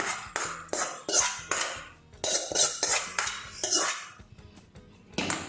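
A metal spoon scrapes and clinks against a pot as coconut and chili tempering is stirred into Kerala erissery, in repeated bursts of clattering strokes with short pauses between, close and fairly loud.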